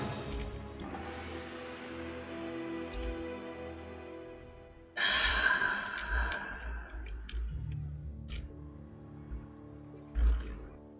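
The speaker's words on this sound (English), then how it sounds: "That is the sound of Mamba spawning in." In the Evil Genius video game, the character Mamba spawns in with a sudden bright burst of layered game sound, set among quieter clicking and ticking background effects that continue around it.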